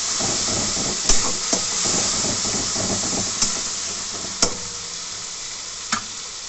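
Mustard and turmeric paste is stirred in a sizzling pan for a puti fish curry, a soft steady frying hiss punctuated by several sharp spatula scrapes and knocks against the metal.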